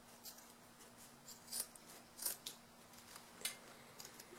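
Scissors trimming excess fabric around the curved seams of a sewn placemat, several quiet, crisp snips spaced irregularly in a hushed room.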